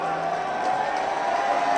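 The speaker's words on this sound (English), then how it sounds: "And the roar from the crowd." Crowd roaring and cheering in the video game Physics Boat: a steady, loud wash of massed voices that holds evenly throughout with no breaks.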